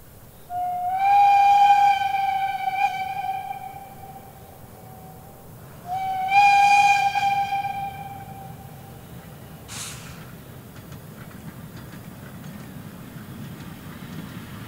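Narrow-gauge special train passing grain fields in the countryside near Putbus, sounding two long, sustained multi-tone whistle blasts a few seconds apart, followed by quieter rolling rumble.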